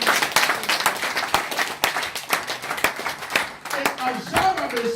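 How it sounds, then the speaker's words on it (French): A church congregation claps and cheers for Jesus during a worship service, with dense, rapid clapping throughout, crowd voices mixed in and a few sung or shouted tones rising near the end. "Acclamez pour Jésus."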